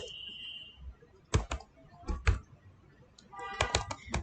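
Scattered keystrokes on a computer keyboard, a few isolated taps followed by a quicker burst of typing near the end, fairly close and with no voice over them.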